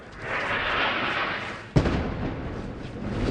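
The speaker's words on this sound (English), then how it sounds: "Airstrike. Another airstrike." A heavy airstrike explosion near a front line: distant rumble builds, then one sharp deep blast hits and rolls on as a long booming tail.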